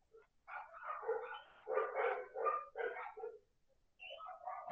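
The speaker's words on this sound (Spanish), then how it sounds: "Oh, los perritos." Several dogs bark and yip in quick bursts, moderately close, with a short pause before a final round of barks; no talk over them.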